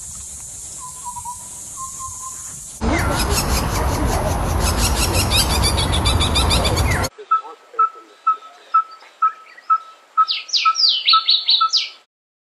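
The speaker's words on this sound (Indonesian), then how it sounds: "Burung cucak jenggot." Cucak jenggot, a Southeast Asian songbird, heard in a stitched sequence: a couple of faint whistles, then a loud harsh raspy chatter, then a run of short evenly spaced clear notes ending in quick rising chirps.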